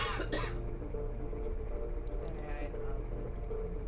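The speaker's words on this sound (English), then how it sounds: "when you're done coughing" Several harsh coughs from a person in a room, a loud burst near the start followed by smaller throat sounds, over a steady hum of a ticking fan.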